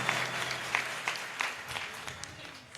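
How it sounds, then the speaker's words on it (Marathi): Applause from a live audience at a Marathi singing event for a boy singer, a steady patter of claps with scattered sharper hits, moderately close, with some talk mixed in. "सर्वांनी जोरदार टाळ्या या लेकरासाठी"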